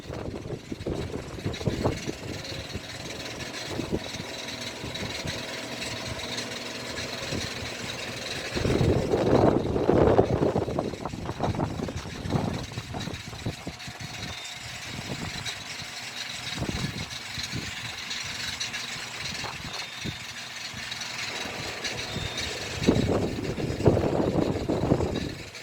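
TUI Airways Boeing 787-8 Dreamliner landing at an airport, heard from a distance as a continuous broad jet roar that swells in the middle and again near the end, with no voices.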